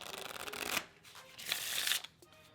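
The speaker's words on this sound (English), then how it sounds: "We'll start off by having a spectator give the deck a quick shuffle." A deck of cards riffles twice in quick succession, crisp papery fluttering bursts, close and fairly soft with no one talking.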